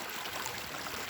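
A mountain stream beside a hiking trail flows in a steady, soft rush of water, brief and even with no voices.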